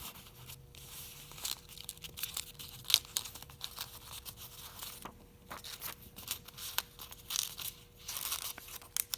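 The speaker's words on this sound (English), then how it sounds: "Take your paper, roll it around." Paper is rolled around a drinking straw to make a straw rocket, giving soft irregular crinkling and rustling with occasional sharper crackles, close and fairly quiet.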